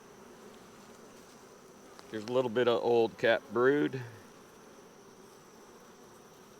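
A hive frame hums with a steady, even drone of honeybees from start to finish, while someone talks briefly in the middle over the buzzing.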